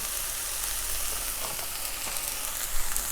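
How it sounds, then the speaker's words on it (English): Paneer chilli with masala sizzling and frying in a pan, a steady loud hiss with a few soft stirring scrapes and no talk. "I'll stir it a little bit."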